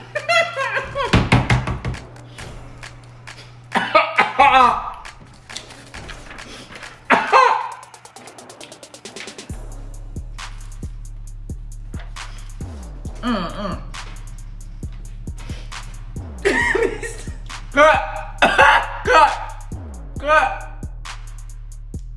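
Someone coughs after eating spicy Mexican candy: a few loud, harsh coughs and gasps in irregular bursts, with a steady low hum and voices talking nearby.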